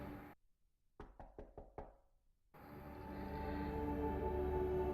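Five quick knocks on a wooden door at home, evenly spaced and clear against near silence, followed by a low indoor background hum.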